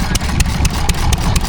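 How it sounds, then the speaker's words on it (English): A stationary engine idling at the Biddenden Tractor Festival, loud and close, with a heavy low chug and regular sharp exhaust beats roughly every quarter second. "you now find me at the stationary engines"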